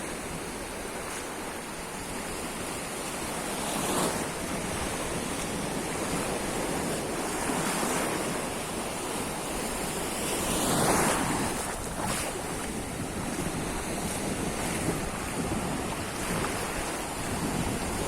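Waves breaking and washing onto Levante beach in the evening, a steady surf roar with periodic swells and wind buffeting the microphone, no voices.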